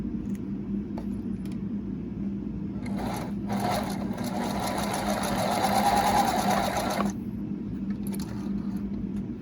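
Sewing machine stitching along the edges of an apron, a close buzzing motor run that starts, pauses briefly, then continues for several seconds before stopping, over a low steady room rumble.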